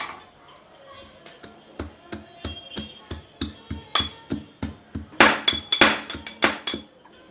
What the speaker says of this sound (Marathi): सगळा लसूण सोडून घेते मी आता याची मस्त अशी कुटून पेस्ट तयार करून घेऊया